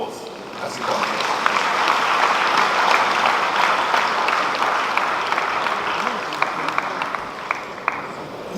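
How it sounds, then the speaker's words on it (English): Audience applause at a bank's 125th anniversary gala night, a sustained wash of clapping from a large crowd that builds at the start and continues evenly, with scattered louder individual claps and faint voices. "we ought to congratulate him especially with a wonderful round of applause as he comes in"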